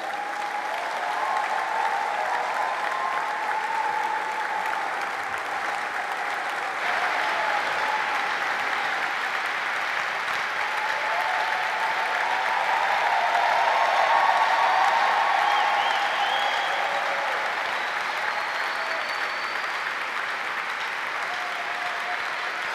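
A church congregation applauds to welcome an apostle, steady sustained clapping from a large crowd that swells slightly midway and carries on without a break.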